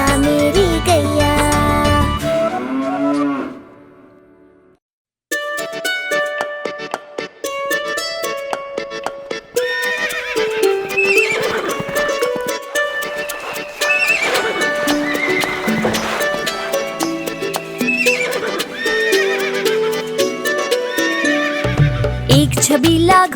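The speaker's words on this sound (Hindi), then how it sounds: "एक छबीला घोड़ा था" A horse whinnies repeatedly over a rhythmic clip-clop of hooves, set against a bright musical backing with sustained tones, loud and continuous apart from a brief gap.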